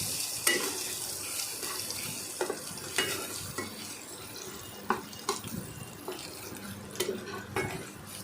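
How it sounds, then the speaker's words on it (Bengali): Ginger stirred and frying in a pan, a steady sizzle broken by repeated scraping clacks of the spatula at irregular intervals, close and fairly loud. "এরপরে আদাগুলো দিলাম, নাড়াচাড়া করলাম।"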